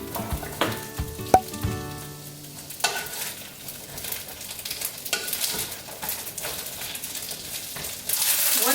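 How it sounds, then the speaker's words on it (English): Green beans sautéing in a pan, a close sizzle and hiss with scattered clanks and stirring scrapes, the sizzle swelling louder near the end, no talking. "Once you saute the green beans a little bit"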